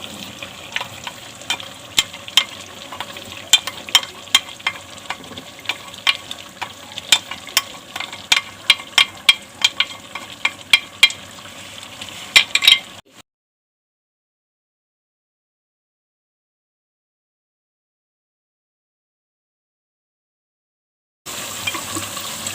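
Tomatoes fry in a pan with dried coriander and cumin, a close sizzle broken by sharp clicks and scrapes of stirring for about thirteen seconds, then silence before the frying returns briefly at the end.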